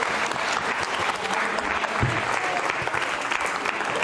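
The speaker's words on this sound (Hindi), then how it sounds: "ताहिर हुसैन, जोरदार तालियां बजाइए, जोरदार तालियां।" Audience at a Ramadan quiz show clapping loudly, a continuous dense burst of many hands with a few sharper claps standing out, sustained throughout without speech.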